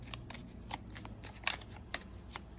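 Tarot cards are shuffled by hand, a faint run of soft riffling snaps and slides in quick irregular bursts, heard alone in a quiet room.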